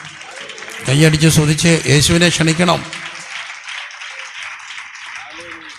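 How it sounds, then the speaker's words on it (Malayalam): A church congregation claps and applauds following a preacher's loud speech, a softer, scattered patter of hands that carries on steadily after the voice stops. "കൈയടിച്ച്"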